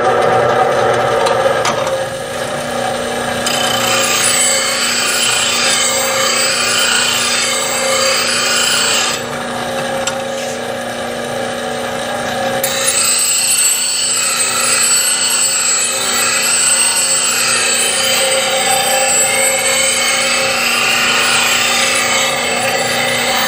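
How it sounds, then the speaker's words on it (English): A woodturning tool held in a fixture is pressed to a grinding wheel, giving a continuous loud rasping grind over the hum of the wheel, with the pitch changing as contact varies and no talking. "So let me show you sharpening with this fixture."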